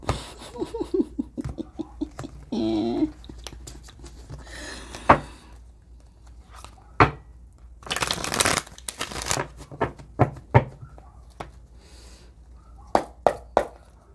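A tarot deck is shuffled close by in quick riffling bursts and scattered card taps, with soft laughter and breathing between the shuffles.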